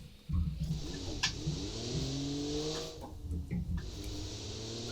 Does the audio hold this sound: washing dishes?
no